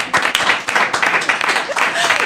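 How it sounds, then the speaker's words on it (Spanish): Brief audience applause with a steady patter of clapping from a small gathering at a book and mountain literary event, lasting only a couple of seconds. "Un aplauso."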